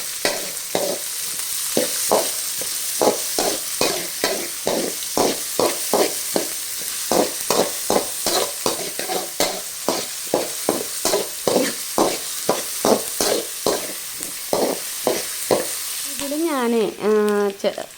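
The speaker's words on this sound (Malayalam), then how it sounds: "ആ രണ്ട് സവാള നമുക്ക് ഇട്ടെടുക്കാം ഇത് ഗോൾഡൻ കളറാവണ വരെ നമുക്ക് വഴറ്റാം" Two onions sauté in a hot pan for tomato rice, a steady close sizzle broken by regular scraping strokes of a stirring spoon, with a brief voice near the end.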